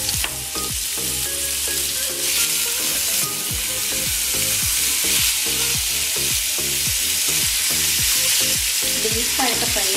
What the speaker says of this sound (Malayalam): ചിക്കൻ ചെറുതായിട്ട് നമുക്കൊന്ന് ഫ്രൈ ചെയ്യാം.